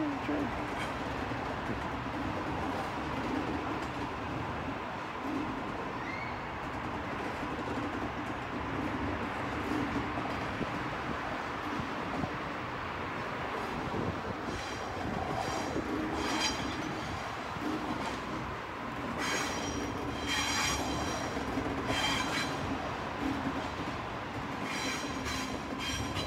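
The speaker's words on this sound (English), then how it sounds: "There's a train." A modern passenger train rumbles past on a railway, a continuous low roar with faint rhythmic clatter and occasional higher squeals of wheels, heard from some distance with a bird chirping now and then.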